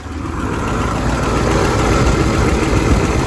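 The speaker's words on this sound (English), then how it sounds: "Let's let it idle for a second." A third-generation Pontiac Firebird engine idles steadily and close, a continuous rumbling drone that holds an even level throughout, with no talk over it.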